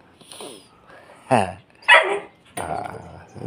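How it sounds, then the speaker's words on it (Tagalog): A dog close by gives short bursts of barking and growling, three or four separate loud yaps and snarls with quiet gaps between them, and a person's voice can be heard nearby. "Ay, aso yun eh."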